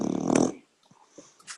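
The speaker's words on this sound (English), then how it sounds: "Somebody's snoring." A short, rough snore rumbles close by with a guttural, growl-like texture, then trails off into faint breathy noises and small clicks.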